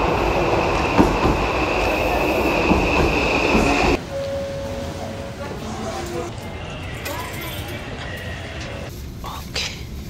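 Inside a moving train in Japan, a steady loud rumble of wheels and carriage noise continues throughout. It drops abruptly to a softer, smoother hum partway through, with faint voices in the background and a brief squeal near the end.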